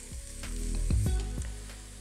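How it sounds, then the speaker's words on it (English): Oil sizzles steadily in a hot pan as onions fry until translucent for fish cakes, with a few louder crackles and stirring scrapes up close, no voices. "Start frying the onions, so until these are translucent."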